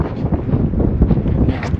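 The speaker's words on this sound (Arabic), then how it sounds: "كاين هاد الريح كيجي غربي، يعني غادي للغرب كيجي من البحر" Desert wind blowing in from the sea, buffeting the microphone in loud, low, gusty rumbles that rise and fall over a couple of seconds.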